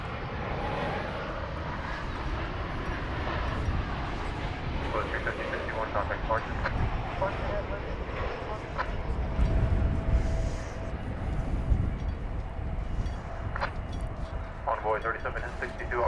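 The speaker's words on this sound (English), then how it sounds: "American Flight 875 from Tucson, Arizona is coming in. It is a MAX 8." An American Airlines Boeing 737 MAX 8 arriving at DFW Airport, a broad, distant jet rumble that swells slightly midway, with voices talking over it.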